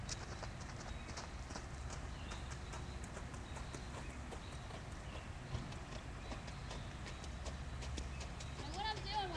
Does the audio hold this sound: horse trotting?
yes